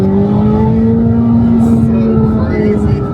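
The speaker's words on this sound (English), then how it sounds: "Got a nice little half throttle pull again." A Chevrolet Corvette C8 ZR1 pulls at half throttle, its engine giving a loud, steady, droning tone heard from inside the car, with faint tire and road noise beneath.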